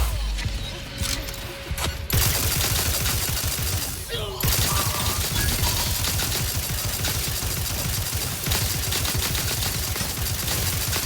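Sustained automatic gunfire in The Outer Worlds 2 combat, dense rapid bursts filling nearly the whole stretch after a brief quieter opening, loud and continuous with mechanical clatter.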